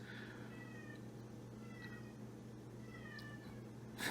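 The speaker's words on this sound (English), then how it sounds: "That's our cat Thea whining that she's not in the video" A pet cat named Thea meows in several drawn-out, whining calls, quiet and indoors over a low steady hum, with a short bump at the end.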